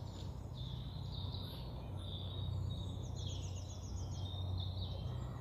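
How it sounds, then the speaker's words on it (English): Small birds chirp and trill in scattered high calls over a steady outdoor background hum on a spring day in the UK countryside, with insect-like buzzing mixed in and no talking. "I love the birds."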